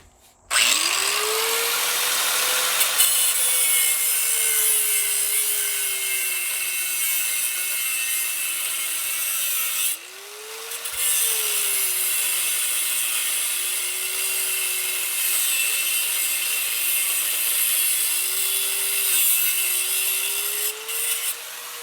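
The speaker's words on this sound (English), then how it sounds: "I'm going to take my cutoff wheel and cut it right up against that lug nut." Cutoff wheel grinding through a lug nut on a 1961 Rambler chassis, a loud, continuous high-pitched whine that wavers in pitch, briefly drops away near the middle, then resumes.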